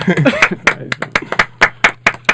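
Separate sharp hand claps ring out in an uneven rhythm, close and loud, about a dozen in quick succession, with a voice speaking briefly at the start.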